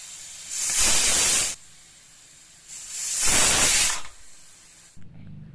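A pressure cooker cooking rajma on medium flame lets out two long, loud bursts of hissing steam whistle, each lasting about a second, separated by a quieter pause and followed by a soft clunk.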